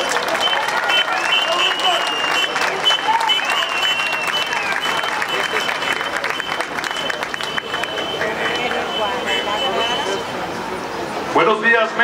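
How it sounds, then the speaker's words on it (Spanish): A crowd at a citizens' protest rally against AMLO at the Monumento a la Revolución in Mexico City applauds loudly and steadily throughout, with some cheering mixed in and a brief swell near the end. "un aplauso de Víctor Contreras de Voces del Contrapeso."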